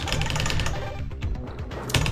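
A well-used mechanical keyboard is hammered rapidly during fast Jazz Jackrabbit play, a dense clattering of keystrokes close by and continuous over game sounds.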